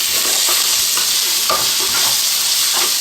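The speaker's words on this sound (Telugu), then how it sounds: "కొంచెం పచ్చివాసన పోయేదాకా వేయించాలి అల్లం వెల్లుల్లి పేస్ట్" Ginger garlic paste fries in a hot pan for a chicken curry, a steady loud sizzle broken by scraping stirs about every half second, with no talk.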